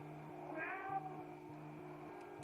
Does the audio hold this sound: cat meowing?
yes